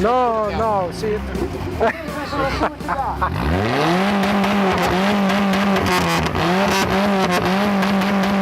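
Car with side pipes and a large hole in the muffler idling and revving, a loud rough exhaust rumble rising and settling several times, with people talking over it.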